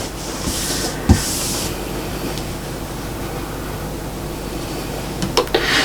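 A sewing machine stitches squares of fabric together for a quilt, making a loud, steady whirring hum that runs the whole time, with a few brief sharper knocks near the start and end.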